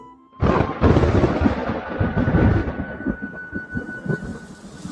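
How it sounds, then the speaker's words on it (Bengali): Thunder crash sound effect in a Bengali horror audio story: a sudden loud boom breaks in, then rolls and rumbles heavily for several seconds before slowly fading under a lingering high tone, with no voice over it. "সঙ্গে সঙ্গেই আকাশ কাঁপিয়ে প্রচণ্ড গর্জন করে বাজ পড়ল।"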